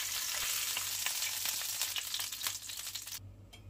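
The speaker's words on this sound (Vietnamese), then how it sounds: "Cho vào chảo một ít dầu để chiên vàng lớp da vịt cho đẹp." Duck skin frying in oil in a pan, making a constant close sizzle with popping spatter that eases near the end.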